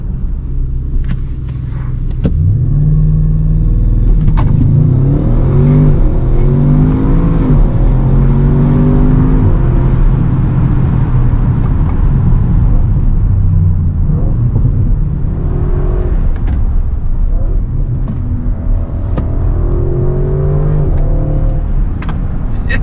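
A 2022 Audi RS6 accelerates hard, its engine rising through several revving pulls with a deep, loud rumble, easing off midway and then building again, close and dominant with no talk.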